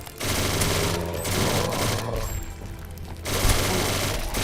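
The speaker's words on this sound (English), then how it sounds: "MG42." An MG42 machine gun in a zombies-mode shooter game fires in long, dense, rapid bursts that are loud and close, with a brief lull partway through.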